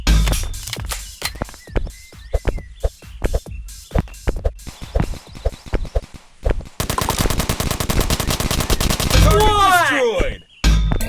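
Assault rifle fire in the video game Jack Street, starting as loud, spaced single shots and short bursts, then a sustained rapid automatic stream, ending with sweeping whistling effects and a final burst.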